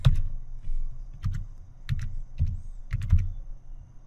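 Typing on a computer keyboard, with separate short bursts of key clicks in an uneven rhythm, close and clear with quiet gaps between the groups of presses.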